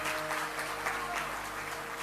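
An audience at a religious discourse bursts into loud, sustained applause, a dense, even wash of many hands clapping that holds steady throughout without any voices on top.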